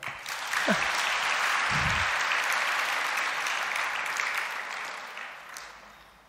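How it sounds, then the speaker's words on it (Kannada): Audience applause fills a hall during a religious education camp, a sustained wash of many hands clapping that swells and slowly tapers over several seconds. "ಚಪ್ಪಾಳೆ ತಟ್ಟಬೇಕು."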